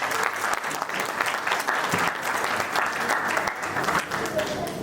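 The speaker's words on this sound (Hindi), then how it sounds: "तो एक बार आप सब लोगों के लिए बहुत ही जोरदार तालियां।" A crowd applauding at a JCI Raipur oath ceremony, with steady, dense clapping from many hands that holds at an even level for the whole stretch.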